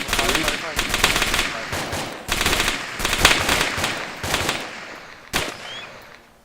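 Sustained close automatic gunfire after a fire command, with dense bursts and brief pauses, then a single sharp shot near the end.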